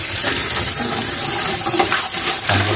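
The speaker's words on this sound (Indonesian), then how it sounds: "jangan lupa dibilas dengan menggunakan kucuran air langsung dari keran ya" Tap water gushes steadily from a faucet to rinse a Pureit Classic water filter, a loud continuous splashing stream with a brief shift in tone as the flow hits the filter.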